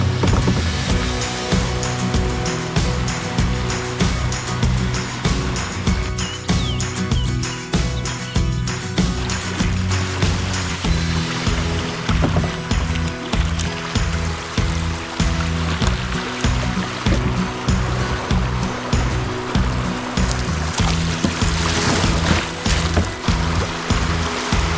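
The New River rushes steadily around a kayak running swift water downstream, a continuous loud gush with rhythmic paddle splashes throughout.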